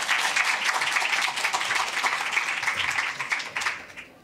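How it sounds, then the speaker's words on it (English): Audience applause at an evening Pecha Kucha event, a dense, steady wash of clapping from a crowd that holds for about three seconds and then thins and tapers off. "so it's time to applaud Tabea, who's been all the coordination."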